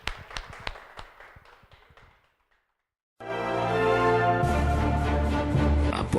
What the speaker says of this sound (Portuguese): Mais uma salva de palmas ao Senhor Jesus por essa noite que foi muito maravilhosa